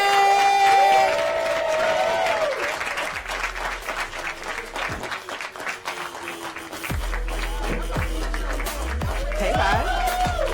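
A comedy club audience at an all-female comedy show claps and cheers steadily for a comedian, with a host's voice calling over the crowd near the start and end.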